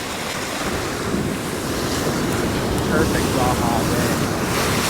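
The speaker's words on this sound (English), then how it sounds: "Real gentle waves." Gentle waves wash steadily onto a calm, warm, sunny Baja beach, a continuous soft surf blended with wind rumble against the microphone, while someone speaks briefly.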